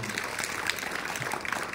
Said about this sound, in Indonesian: Tepuk tangan untuk tamu istimewa kita.